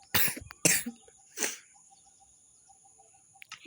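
Three sharp coughs close by, the first two quick together and a third after a short pause, with faint chirping in a quiet background.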